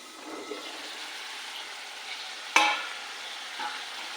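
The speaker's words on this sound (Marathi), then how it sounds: "बघा, चांगलं तेलामध्ये वाफवून घेतलं।" Masala frying and steaming in oil in a pan, a soft continuous sizzle broken by one sharp clank near the middle and a few light stirring touches.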